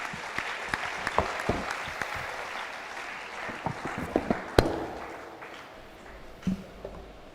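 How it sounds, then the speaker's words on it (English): Audience applause at a panel discussion during a Christian conclave in West Bengal, a steady wash of many hands clapping with scattered sharper claps rising out of it, fading slightly toward the end. "can we give them a louder round of applause, please?"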